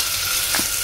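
Sliced onion drops into hot oil for a chhole curry, giving a continuous close sizzling hiss with a faint stirring clink, steady and without talk.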